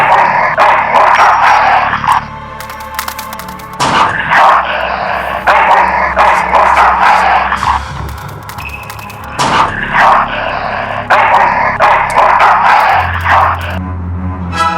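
A dog in the video game Full Throttle Remastered barks repeatedly in loud, sharp bursts with short pauses, mixed with yips and whimpers over a busy electronic background.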